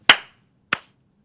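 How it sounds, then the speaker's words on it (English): Two sharp hand claps from podcast hosts attempting a synchronized clap test, each a crisp close snap with a short decaying tail, about half a second apart, then silence. "I think you want to try to clap at the same time"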